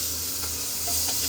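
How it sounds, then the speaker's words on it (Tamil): Marinated chicken liver sizzles steadily in a hot pan, a close, even frying hiss with faint stirring and no voices. "இதுக்குள்ள ஊற வச்சிருந்த ஈரலை மட்டும் தண்ணி இல்லாமல் எடுத்து போடுவோம்."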